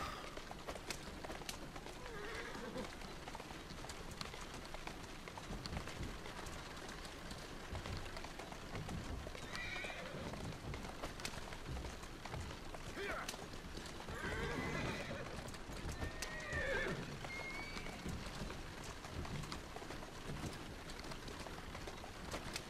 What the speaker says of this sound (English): I will take this horse.